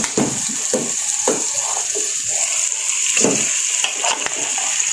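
Saag greens frying in a pan of red masala, a steady bright sizzle with irregular scraping and stirring clatter close by, no voices.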